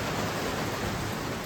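Rain pours down outside a home in a continuous broadband wash of sound, steady and even with no individual drops standing out.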